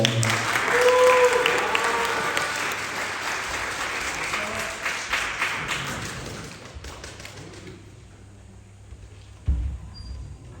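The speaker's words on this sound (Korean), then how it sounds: "큰 박수로 맞이해 주세요" Audience at a school literature day event claps to welcome a student performer, applause loud at first and then tapering off into quiet, with a soft thump near the end.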